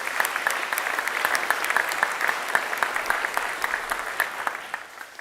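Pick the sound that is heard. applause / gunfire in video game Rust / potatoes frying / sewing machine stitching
applause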